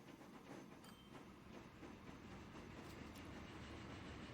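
A train rolls along in the video game Transport Fever, a steady dense rumble with rhythmic clatter, fairly faint and unbroken, with no talking.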